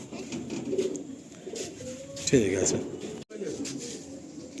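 Pigeons at a breeder's loft in West Bengal cooing, soft throaty warbles rising and falling a few times, close by, under someone talking.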